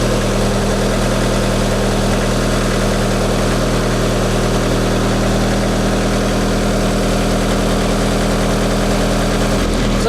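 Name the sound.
6036T conveyor raising to first operating position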